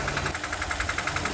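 Rapid, evenly spaced knocking comes from the engine bay of a Kia Cerato, repeating about eight times a second over a low idling hum, close and fairly loud.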